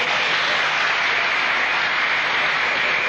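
Loud, dense applause from a concert audience at an evening show, continuous and close, holding a flat level throughout.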